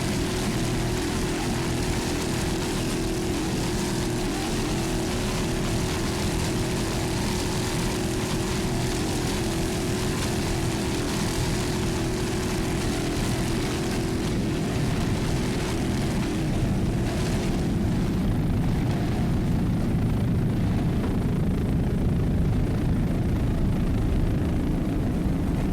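A 26-foot racing powerboat driven by a 500 horsepower Mercury inboard engine roars during an offshore race in Key West, giving a loud, sustained rumble that gradually thins and fades as the boat moves away.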